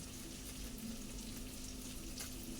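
Spice dropped into hot oil in a frying pan, a steady soft sizzle and crackle that stays even throughout, quiet and close.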